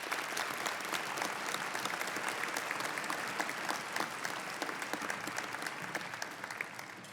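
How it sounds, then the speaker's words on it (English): Steady, sustained audience applause fills a hall during a sports hall of fame ceremony honoring athletes, dense clapping holding at an even loud level throughout with no voices standing out. "Let's give these athletes a round of applause."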